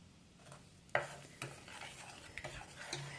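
Quiet scraping and knocking of a utensil stirring shortbread cookie dough in a bowl, with a few soft taps at irregular moments.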